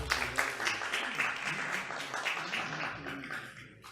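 Seminar audience applauding a speaker's introduction, a sustained patter of clapping from a room of listeners, fairly steady and then slowly tapering toward the end.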